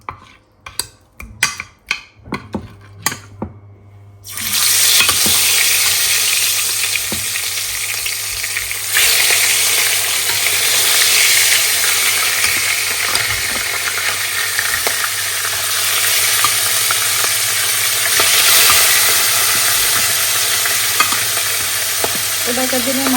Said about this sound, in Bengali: ফুলকপিটা রান্না করব, তার জন্য মাছগুলো একটু ভেজে নিই।